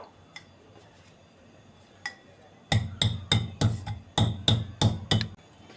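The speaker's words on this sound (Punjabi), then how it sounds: "10-12 ਕਾਲੀਆਂ ਮਿਰਚਾਂ ਤੇ ਅੱਧਾ ਚਮਚਾ ਜੀਰਾ ਇਹਨੂੰ ਬਰੀਕ ਕੁੱਟ ਕੇ ਇਹਦਾ ਪਾਊਡਰ ਬਣਾ ਕੇ ਤਿਆਰ ਕਰਾਂਗੇ" A pestle pounds black peppercorns and cumin seeds in a mortar, a few scattered knocks followed by a steady run of about ten sharp, close, evenly spaced thuds.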